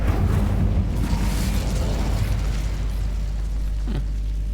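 A fire spell blast from Hogwarts Legacy: a sustained roaring, rumbling burst of flame. It stays loud and dense throughout, with no voices over it.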